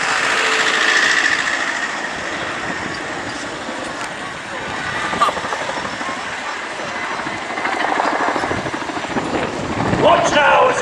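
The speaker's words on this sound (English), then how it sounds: "hear the fabulous sound of the Chinook blade snap" A Chinook helicopter flies at an airshow with a loud, continuous, rhythmic chopping blade snap and heavy engine roar, close and sustained throughout.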